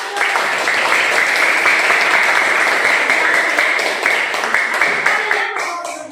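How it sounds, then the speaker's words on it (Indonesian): Children in a Christian religious education classroom clap together loudly and steadily for several seconds before the clapping thins out and tails off at the end. "Tepuk tangan."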